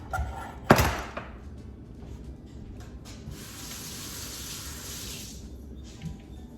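A kitchen tap runs while something is rinsed during tuna salad prep: a sharp thunk at the sink starts things, then a steady hiss of running water fills the middle and fades off near the end, close and moderate, with no talking.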